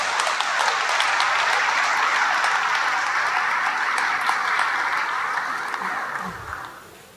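A crowd in Lourdes Matha Cathedral, Kurnool, applauds to welcome newly elected Pope Leo, with dense sustained clapping at a steady level that fades out near the end.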